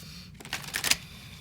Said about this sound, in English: I'm gonna do one more shuffle